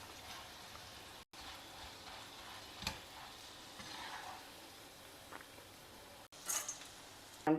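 Curry leaves frying in hot oil give a steady, close sizzle with a crackling, hissing texture throughout, a few sharper pops and clicks near the end, and no talking.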